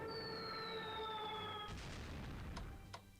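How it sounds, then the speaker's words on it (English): In the strategy game Strategic Command: World at War, a bombing raid on Tokyo sounds as a descending falling-bomb whistle that ends in a muffled explosion rumble, followed by a couple of faint thuds. "So we're going to strat bomb Tokyo."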